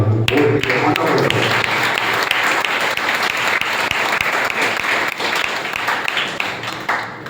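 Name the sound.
children clapping, applause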